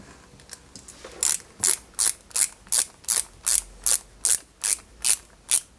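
Type C screws driven into a 1/8 scale Ford Mustang model kit with a ratcheting screwdriver, a dozen crisp evenly spaced ratchet clicks in a steady rhythm, close and clear with no talk.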